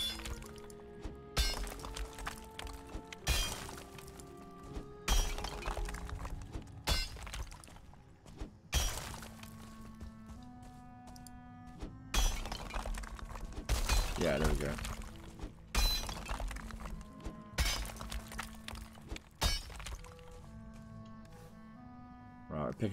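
Undermined stone structures in Valheim break apart in a series of loud crashes and crumbling bursts, recurring every few seconds over a sustained tonal backdrop.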